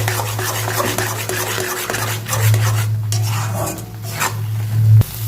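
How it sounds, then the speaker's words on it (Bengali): A spoon stirs chilli powder, cumin, a little sugar and other spices into mashed cabbage in a kitchen pan, giving a steady scraping and rubbing with light metallic knocks and no voices. "সব উপকরণ নিয়ে একটু ভালো করে নেড়ে করে ধুয়ে নেব।"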